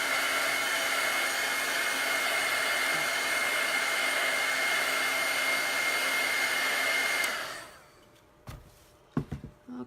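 A hair dryer or heat tool blows a steady, even whir while drying chalk paste for about seven seconds, then cuts off, leaving a few faint handling knocks and clicks.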